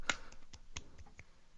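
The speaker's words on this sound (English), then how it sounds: "One solitary clap with reverb on it." A single hand clap with a reverb effect, heard during a horror movie quiz livestream: one sharp, reverberant snap near the start followed by fainter echoing clicks that die away.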